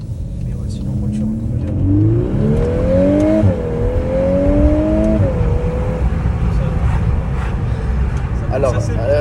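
A Volkswagen Golf 8R engine revs up through rising pitch sweeps, pausing between gear pulls, loud and close from inside the car while people talk over it.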